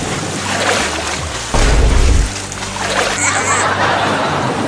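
Water splashing as someone swims, a loud burst of churning splashes mid-clip over continuous outdoor water noise, with voices and laughter around it.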